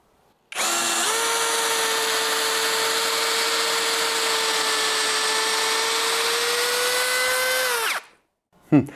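A Litheli U20 cordless drill whirs loudly and steadily for several seconds at a constant high pitch, then stops abruptly, followed by a brief clunk.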